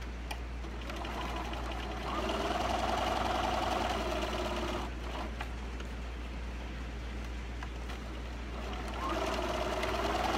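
A sewing machine stitches fabric for a small Easter treat bag, a continuous close whirring hum with a steady low drone that swells slightly in pitch in two stretches.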